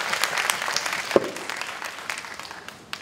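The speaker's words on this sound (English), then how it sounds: "let's give a round of applause to Judith again for wonderful presentation." An audience applauds a speaker after an inspirational faith talk, with brisk, continuous clapping filling the room throughout the short stretch.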